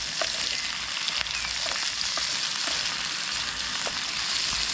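Peas, onion, garlic and tomatoes sizzle and fry in a pan at a campsite in Uttarakhand, a steady close crackling hiss with a few light scrapes and stirs.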